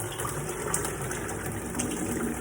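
Hot water gushes and splashes continuously as it is poured out of a pot, a close, steady rushing stream.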